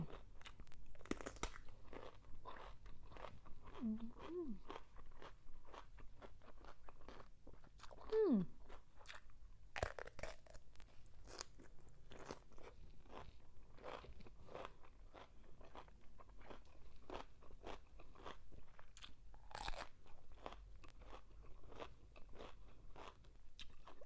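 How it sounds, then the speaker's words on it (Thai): Crisp bites and crunchy chewing of chilled cucumber, close up and quiet, repeating steadily with small crackles and rustles and no talking. "นึกอยากกินแตงกวาแบบแช่เย็นฉ่ำๆแบบนี้จ้า"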